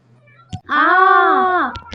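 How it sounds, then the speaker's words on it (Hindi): Women scream in a Hindi family drama: after a dull thump comes one loud, sustained, high-pitched wailing cry lasting about a second, followed by a couple of soft knocks. "इन दोनों की चीख क्यों आ रही है"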